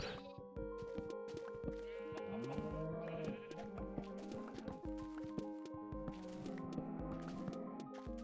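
Sheep bleating in Minecraft, repeated blocky game bleats from a couple of sheep over a steady bed of in-game farm sounds and background music, with light talk in places.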